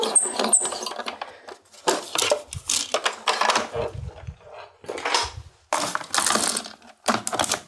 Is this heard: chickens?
no